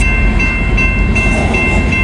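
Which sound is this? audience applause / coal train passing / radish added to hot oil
coal train passing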